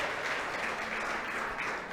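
A church congregation claps together in dense, sustained applause, a full steady wash of many hands filling the room.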